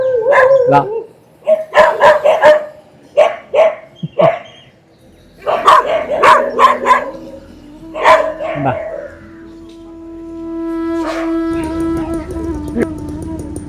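Several dogs in a Tamil Nadu village near Pollachi bark in quick bursts, loud and close, then one draws out a long howl.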